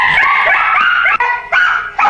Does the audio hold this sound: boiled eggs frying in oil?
no